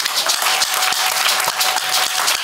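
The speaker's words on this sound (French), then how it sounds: "Mais commence à acclamer pour Jésus." A church congregation applauds and claps for Jesus, a steady, dense wash of hands clapping close by with no talk over it.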